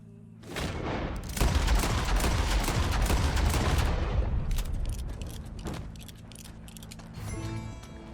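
A loud flurry of gunshots erupts in Red Dead Redemption 2, rapid overlapping shots for a few seconds that thin out into sparser cracks and a fading tail.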